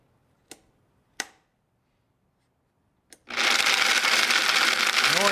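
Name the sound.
Vitamix blender grinding almonds into flour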